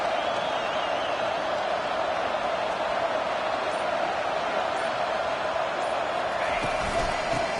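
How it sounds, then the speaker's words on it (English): Stadium crowd in the College Football 25 video game, a steady, dense roar of many voices filling the whole stretch at an even, fairly loud level without breaks. "Listen to the crowd energy here in the early going."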